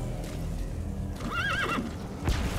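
The horse D-Horse in the Metal Gear Solid 5 video game gives a single loud, wavering neigh in the middle of the clip. Faint hoof clip-clops and game ambience sit around it.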